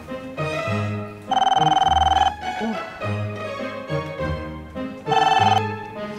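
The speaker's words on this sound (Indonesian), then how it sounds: "Tuh, telepon mak nih." A telephone rings twice with a bright electronic trill, each burst about a second long, over low background music.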